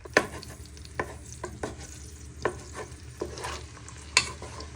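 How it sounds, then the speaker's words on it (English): Raw prawns fry in oil while being stirred, with a soft steady sizzle and a series of distinct scraping stir strokes at irregular intervals, close up and without talk. "you want to start stirring them in the oil so they go nice and golden"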